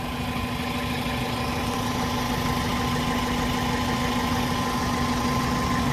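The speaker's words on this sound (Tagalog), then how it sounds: "pakinggan yung aircon niya." An idling car's air conditioning running with a newly installed condenser, a steady mid-pitched engine and compressor hum with a constant tonal drone, even and close, with no talking.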